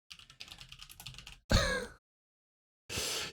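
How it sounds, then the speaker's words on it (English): Rapid clicks from a computer keyboard being typed on nearby, followed by two short, louder bursts of sound separated by silence. "Pay no mind to the fact that I'm actively typing."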